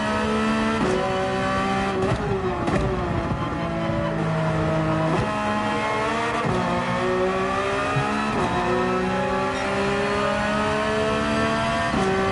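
A race car in Gran Turismo 4 runs flat out, its engine roaring loud and continuous, rising in pitch through each gear, with brief drops at the shifts and a faint tire squeal.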